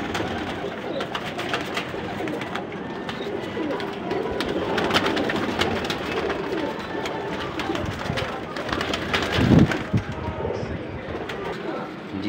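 Teddy and Ferozepuri baby pigeons coo and murmur close by in a steady, busy flock chatter, with someone talking over them.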